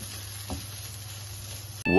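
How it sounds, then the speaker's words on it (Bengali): Steady sizzling of papaya and carrot frying in a pan for halwa, with a soft scrape of stirring partway through and a sudden louder clatter right at the end. "আমি নাড়তে থাকি এগুলা ভাজা ভাজা হওয়া পর্যন্ত।"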